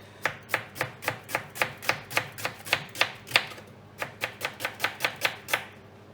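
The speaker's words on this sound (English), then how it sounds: "what we do is we cut it this way, so it's half like this, so not too thin and definitely not too thick" Knife chopping onion on a board, about eighteen crisp even strokes in quick steady rhythm with a short pause midway, close and clear without talk.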